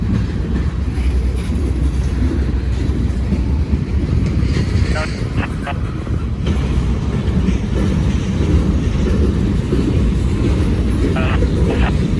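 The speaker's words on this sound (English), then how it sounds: "The end of this train just passed another locomotive that was stopped" Long freight train rolling past with a continuous heavy rumble and occasional clanks and clicks from the cars, loud and close for the whole stretch, with talk over it.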